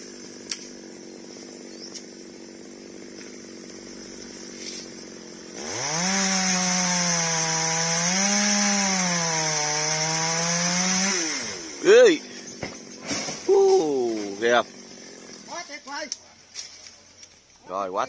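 A chainsaw cuts through a branch high in a very tall bạch đằng tree. Its loud, steady whine runs for several seconds with slight dips in pitch, then stops, followed by scattered cracks, creaks and handling noises, with someone talking.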